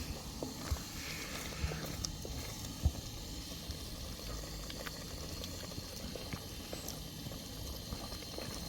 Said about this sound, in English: That's simmering away quite nicely.